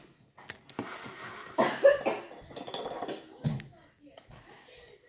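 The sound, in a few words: cough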